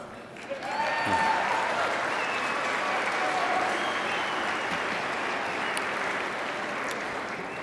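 Sustained applause from a large crowd at an awards banquet, steady and loud for several seconds, with no speech over it.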